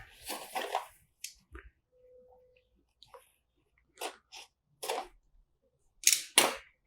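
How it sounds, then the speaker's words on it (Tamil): Seal on a Dizo Buds P earbuds box being cut, several short, crisp snipping and tearing bursts, close and fairly quiet, separated by near silence. "இப்போ நம்ம இதோட சீலை வந்து கட் பண்ணிப்போம்."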